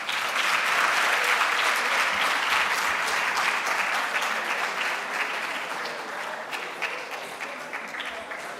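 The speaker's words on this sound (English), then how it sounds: "May we stand up and clap hands?" A standing audience at a school debate competition in Johannesburg claps together in sustained, dense applause that stays loud and even, easing only slightly toward the end.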